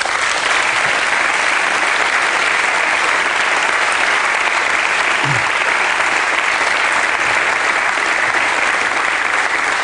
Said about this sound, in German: Und dafür einfach nochmal Applaus und Respekt.